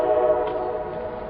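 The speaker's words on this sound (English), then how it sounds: "Lots of trains" Along the Great Allegheny Passage rail trail, a train horn holds one steady, droning tone at moderate distance, sounding over a low background rumble with no speech.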